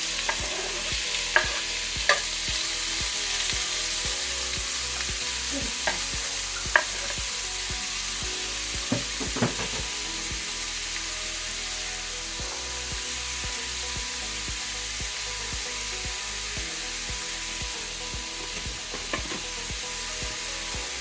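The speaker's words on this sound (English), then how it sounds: "I put a little bit of lard in there. You don't have to do that. You can use oil or just put your bacon. Then I'm gonna put the bacon in." Bacon frying in lard in a pan, a continuous close crackling sizzle with occasional sharp pops and utensil clicks, and no voices.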